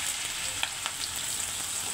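Potatoes frying with spices in oil in a wok give a steady, close sizzling hiss with a few sharper crackles, and no one speaks over it.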